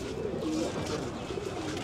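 Pigeons coo in low, repeated murmurs at a crowded village pigeon market in Jaipara, Dohar, Dhaka, Bangladesh, with steady crowd hubbub underneath and no clear speech.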